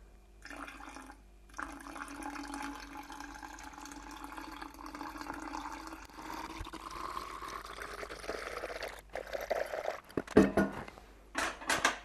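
Water poured into a coffee siphon, a soft steady trickle and gurgle at low level, ending in a few sharper clinks and splashes near the end.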